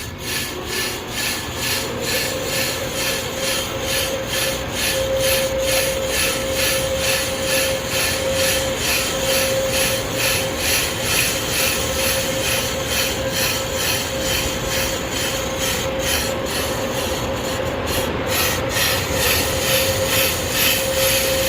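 A Pro Cut on-car brake lathe machines the rusty front rotor of a 2019 Ford Transit, giving a loud, continuous grinding scrape with a steady whine underneath and a fast rhythmic chatter throughout, close up and with no talk.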